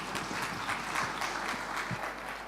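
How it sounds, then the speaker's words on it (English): Audience applause for Dr. Peter Akindeju after a standing ovation call at an entrepreneurship talk, steady continuous clapping from a crowd throughout, fairly even in level with no voices. "please stand on your feet and give a round of applause to Dr. Peter Akindeju."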